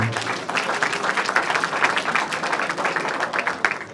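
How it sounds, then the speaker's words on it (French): Audience applause at a public gathering fills the moment: dense, sustained clapping from a crowd, loud and even for the whole stretch, with faint voices underneath. "est-ce qu'on peut l'applaudir, s'il vous plaît?"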